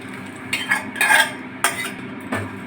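Boiled biuli dal being added to fried spices in a pan and stirred: a series of scraping, clinking spoon strokes against metal over a faint sizzle, close and fairly loud.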